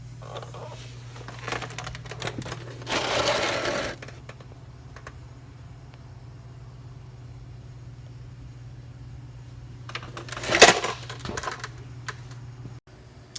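A power tool removes the differential cover bolts on a Jeep JL in two short, whirring bursts a few seconds apart, with low garage hum in between.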